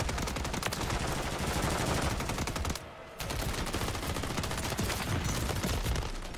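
Rapid automatic gunfire from an SMG-style weapon in the video game Modern Warfare 3, dense sustained bursts of shots with a brief pause midway, loud and close, no speech.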